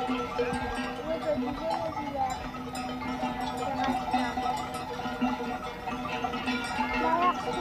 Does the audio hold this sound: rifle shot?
no